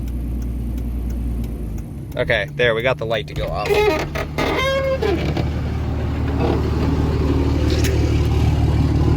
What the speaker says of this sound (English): I'm gonna let this thing idle for a little while